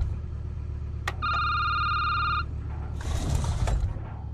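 A telephone rings in the SecurityBooth video game: one long electronic ring tone with steady pitched bands, preceded by a sharp click and followed by a short burst of rustling noise, all over a low constant background hum.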